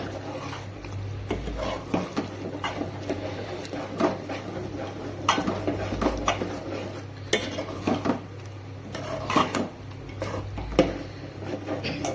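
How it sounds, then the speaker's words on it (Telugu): Gongura leaves being stirred into chicken curry in a pan, with repeated scraping and clinking of a utensil against the metal and a faint sizzle underneath, steady throughout at close range. "ఇప్పుడు దీంట్లో నేను గోంగూర అయితే యాడ్ చేసేస్తాను ఒకసారి కలిపేసుకుందాం మొత్తం"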